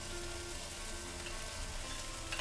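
Onion hits a hot pan of half-cooked chicken and Chinese sausage for chicken fried rice, giving a steady, dense sizzle that crackles evenly throughout with no voices.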